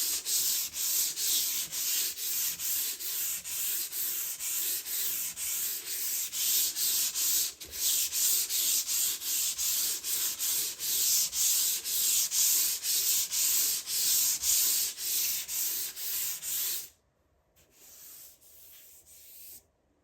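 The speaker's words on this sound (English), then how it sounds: "Lightly sand with fine grit sandpaper until smooth. I use 320 grit and do it by hand to get into the grooves." Wood window trim is sanded by hand with 320 grit sandpaper, a steady rhythmic scratching of quick back-and-forth strokes, close and continuous, before the rubbing briefly drops off and resumes more quietly near the end.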